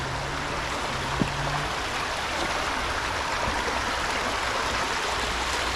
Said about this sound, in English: inner city creek.